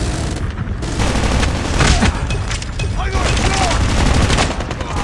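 Dense, loud gunfire in the Call of Duty Mobile video game, with rapid bursts and booming shots running continuously, mixed with faint voices.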